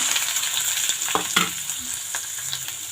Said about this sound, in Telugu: ఆనియన్స్ పచ్చిమిర్చి వేపేసుకుందాము